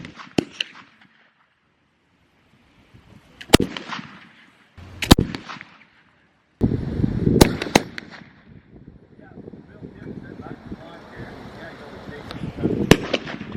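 Underhammer percussion muzzleloader rifles firing at an over-the-log chunk shoot match: several loud, sharp reports at irregular intervals, mixed with outdoor crowd noise and people talking between shots.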